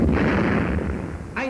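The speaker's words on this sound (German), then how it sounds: "Einschläge schwerer feindlicher Artillerie." Heavy enemy artillery shells land in a 1944 German wartime newsreel, making a loud, sustained rumbling roar of blasts. A second sharp boom hits near the end.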